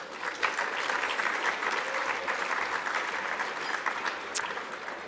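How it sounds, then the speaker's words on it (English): Guests at a VFL best and fairest awards night applaud Steve and Nicole with a continuous, steady ovation of many hands, moderately loud and unbroken, with no one speaking over it. "A round of applause for Steve and Nicole, please."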